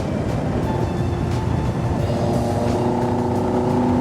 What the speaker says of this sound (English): lovely induction noise from those throttle bodies as well